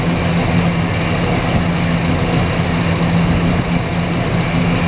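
Pontiac GTO engine idling, a steady low rumble with even, unbroken vibration close by and no voices over it.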